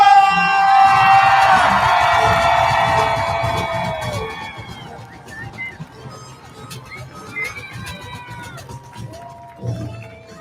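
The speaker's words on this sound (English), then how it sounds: "I want the biggest, the loudest cheer for the class of" Stadium crowd at a class of 2021 graduation ceremony erupts in loud cheering with high whoops and screams, swelling at first and then fading into scattered shouts and voices.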